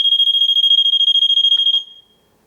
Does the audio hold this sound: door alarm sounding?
yes